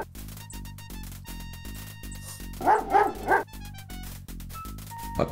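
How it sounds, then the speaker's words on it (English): Dog barking in the King's Quest V computer game as a mangy old dog digs at a huge anthill, a few loud synthesized yips bunched in the middle over a steady looping game melody. "A mangy old dog digs playfully at the huge anthill while the poor ants scurry about frantically."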